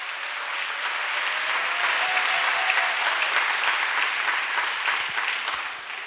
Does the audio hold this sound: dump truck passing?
no